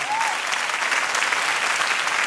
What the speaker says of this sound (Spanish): Junta tus manos y dale un aplauso al Señor